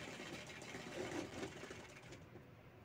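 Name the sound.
sewing machine stitching the side of a cloth bag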